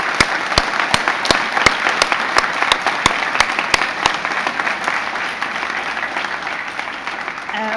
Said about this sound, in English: give a massive round of applause to all the pals and all the friends and family